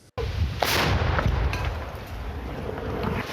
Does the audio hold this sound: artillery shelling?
yes